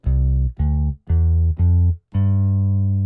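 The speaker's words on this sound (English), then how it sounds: "It is a really amazing bass preset" Deep synthesized bass guitar notes from a bass preset in a 90s R&B beat, five plucked tones in a slow sequence, the last one held longer, loud and clean with nothing else.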